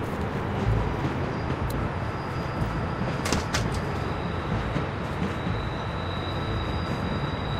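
A moving train in The Walking Dead video game, Season 1 Episode 3, gives a steady, loud rolling rumble. A few sharp metallic clanks and brief high squeals cut through it, and no one speaks.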